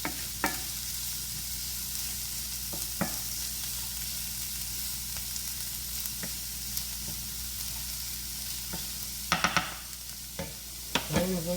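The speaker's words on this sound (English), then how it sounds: "I want to go ahead and cook the onions around so they become nice and caramelized" Onions fry in a pan for Puerto Rican beef patty filling, giving a steady soft sizzle with occasional sharp scrapes and clicks of stirring near the end.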